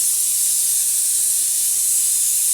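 A pressure cooker cooking chana dal with spinach releases a loud continuous hissing steam whistle, steady and close throughout with no voices.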